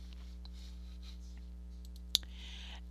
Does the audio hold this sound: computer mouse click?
yes